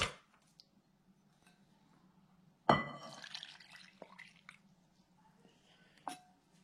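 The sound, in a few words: porcini mushroom soaking water poured into bread dough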